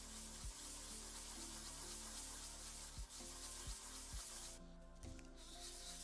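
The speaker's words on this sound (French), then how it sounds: "je fais le ponçage avec les rails en place. Je dégrossis au grain 80." Model railway rails and track section being sanded with 80-grit sandpaper, a quiet continuous rubbing scrape with a few brief breaks in the strokes, heard alone.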